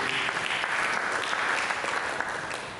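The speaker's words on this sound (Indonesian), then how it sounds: "Berikan tepuk tangan bagi Yesus." A church congregation at a worship service breaks into dense, sustained applause that stays loud and even throughout, with many hands clapping together and no voices on top.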